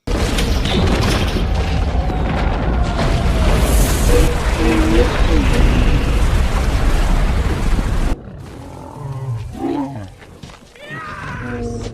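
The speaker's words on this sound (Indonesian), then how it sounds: "Bom rakitan yang meledak menyebabkan longsor salju yang dahsyat" Homemade bomb exploding and setting off a massive avalanche in a film scene, a loud sustained roaring rumble that cuts off abruptly into quieter debris and movement sounds.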